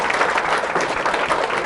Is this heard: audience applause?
yes